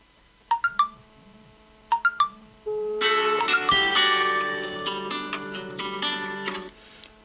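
A telephone rings in two short electronic bursts, then the line breaks into a longer, wavering, distorted tone that fades and cuts out.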